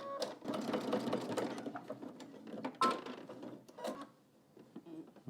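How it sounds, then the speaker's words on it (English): A sewing machine edge stitches a belt loop on baggy jeans in quick, close bursts of rapid mechanical clatter, stopping and restarting several times with short pauses between runs. "And then you just want to edge stitch the top"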